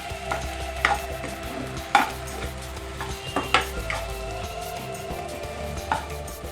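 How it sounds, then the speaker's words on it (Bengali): Boiled mashed potatoes are stirred together with spices in a bowl, soft squelching and scraping strokes with a few sharper taps of the utensil against the bowl, steady and close, under a faint kitchen hum with no voices. "এবারে আলুর সাথে এই মশলাটাকে ভালো করে আমরা মিশিয়ে নেব।"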